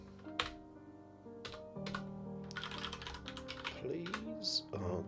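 Typing on an ergonomic split computer keyboard: uneven bursts of soft key clicks, near and fairly quiet, over a steady electronic hum, with a short pause early on.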